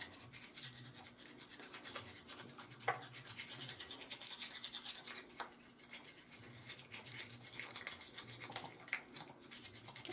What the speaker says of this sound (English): I slide that toothbrush right towards the back